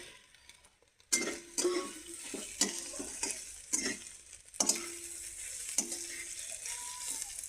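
Soybean chunks and cabbage fry in a pan with a soft, steady sizzle, broken by repeated sharp scrapes and clinks of a spatula stirring at irregular intervals.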